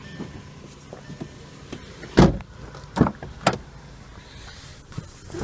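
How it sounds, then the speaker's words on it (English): A small electric motor hums faintly in the quiet interior of a 2010 Volkswagen Jetta SportWagen, with a few soft mechanical clunks and thumps as the rear wiper moves. "Rear wiper."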